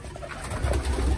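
Pigeons coo softly nearby, a few low, rolling calls in a short burst with faint background rustle.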